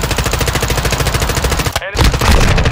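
Rapid automatic gunfire from Call of Duty Modern Warfare 2, a loud, dense stream of shots rattling nonstop with a brief gap near the end before the firing resumes, a voice shouting beneath it.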